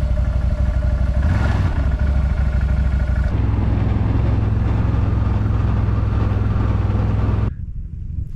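A quad bike engine revs up slowly, a loud close rumble that rises and then settles into a lower idle-like chug before cutting off near the end.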